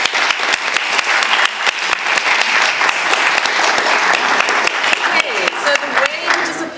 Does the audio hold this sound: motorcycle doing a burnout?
no